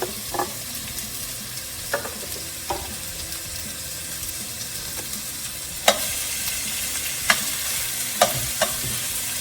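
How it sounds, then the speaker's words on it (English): Chunks of pork browning with onion in a pan for pasta e fagioli, a continuous close sizzle broken by sharp clicks and scrapes of a utensil stirring. "I'm adding in the chunks of pork to brown."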